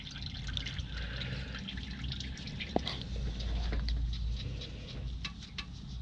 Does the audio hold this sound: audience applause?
no